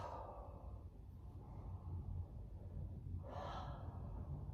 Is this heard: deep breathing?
yes